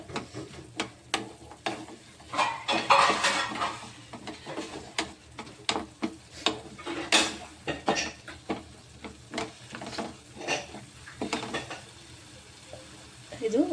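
A samosa filling being mixed in a pan, with repeated scraping and clinking strokes of a spoon against the metal over a faint sizzle of frying, steady and close with irregular rhythm.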